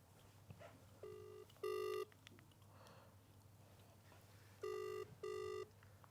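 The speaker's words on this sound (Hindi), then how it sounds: "जरा फोन मिलाऊं जरा।" A phone ringback tone sounds as an outgoing call is placed. Two pairs of short electronic ring bursts come through clearly over a low steady hum, with a pause of a few seconds between the pairs.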